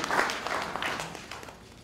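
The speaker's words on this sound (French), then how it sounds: "que je vous demande d'applaudir" A short burst of applause from a crowd at the Forum de Bamako, steady clapping that thins and fades toward the end.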